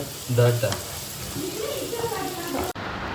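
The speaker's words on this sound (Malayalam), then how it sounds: "അങ്ങനെ സബോള വറ വറ വറയാണ് കേട്ടോ ഇപ്പം നടന്നുകൊണ്ടിരിക്കുന്നത്" Onions sizzle steadily in a hot pan, a continuous crackling hiss with a voice murmuring over it.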